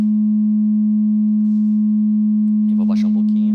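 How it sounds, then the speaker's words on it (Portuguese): A synthesizer oscillator producing a pure, steady sine wave tone, loud and constant throughout, with a brief bit of speech over it near the end. "pegando do meu oscilador, uma onda senoidal"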